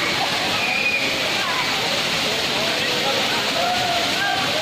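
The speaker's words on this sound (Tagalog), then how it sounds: "Dampilit Falls." Dampilit Falls pours in a steady broadband rush of falling water, constant and fairly close, with a faint hint of voices in the background.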